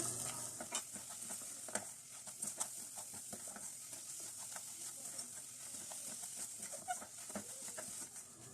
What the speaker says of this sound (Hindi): सारे नट्स इसमें डाल के अच्छी तरह से इसको मिक्स कर लेते हैं।